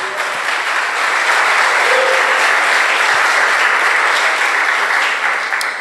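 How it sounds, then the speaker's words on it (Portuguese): Loud, sustained applause from a large church congregation, a dense wash of clapping that holds steady throughout without pause. "Pode aplaudir Jesus?"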